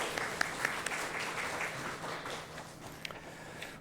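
A congregation applauds during a Sunday service at a Korean church in Chile, a soft, steady patter of many hands clapping at a distance with a few sharper claps standing out, no voices.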